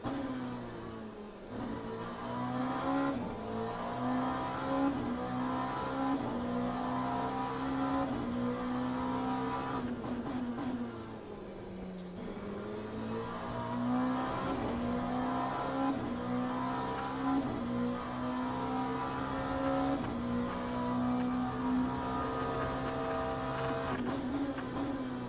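LMP1 prototype race car engine in the Le Mans Ultimate racing sim, a continuous loud droning roar that rises and falls as the car accelerates and shifts through the whole stretch.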